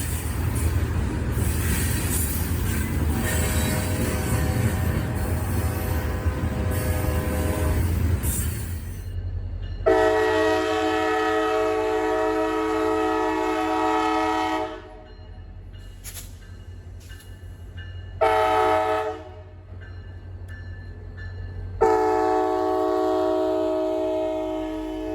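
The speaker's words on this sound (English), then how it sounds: "Norfolk Southern train 12Q came marching through town, consisting of 3 NSGEs on point." A Norfolk Southern 12Q mixed merchandise freight train led by three GE locomotives rumbles and clanks past in town, then sounds long, loud horn blasts that come in several separate bursts over the steady rolling noise.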